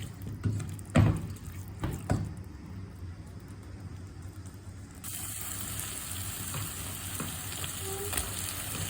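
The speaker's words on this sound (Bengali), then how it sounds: "আমার ডালটাও কষানো হয়ে গিয়েছে" Washed lentils and spices fry in a pan for a watermelon-rind curry, heard as a steady sizzling hiss with a few sharp stirring knocks early on, the hiss swelling louder partway through.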